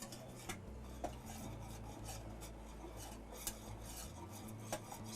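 A whisk working chocolate pie filling in a pot, a continuous rasping, scraping stir with light metallic clicks against the pan sides, steady and close, no voices.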